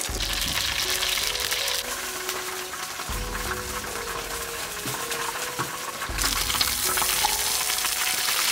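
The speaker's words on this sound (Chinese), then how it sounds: "一面煎透以后给它翻一面， 再继续煎" Fish pan-frying in hot rapeseed oil in a wok, a loud continuous sizzle and crackle with brief bursts and shifts as the fish is moved, no voices.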